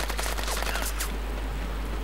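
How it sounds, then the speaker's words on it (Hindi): Gunfire in the video game Project IGI, set at a military airbase: a dense burst of rapid shots for about a second, then fading into a steady background hum, with no voices. "क्यों अंधाधुंध फायरिंग कर रहे हो जब देख रहे हो कि हम आ चुके हैं"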